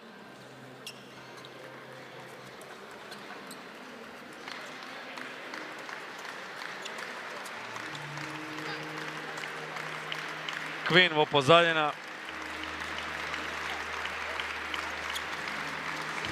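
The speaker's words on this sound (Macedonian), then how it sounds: "Аплаузи на отворена сцена" Steady audience applause fills a handball trophy ceremony in Macedonia. It is continuous and fairly distant, with voices talking over it and a brief louder burst near the middle.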